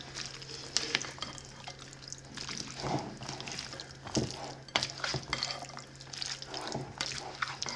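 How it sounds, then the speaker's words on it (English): Taco bake ingredients stirred together in a bowl, a close run of wet, squishy scraping strokes with occasional clinks, at moderate volume and without talk. "So we're just going to mix this together."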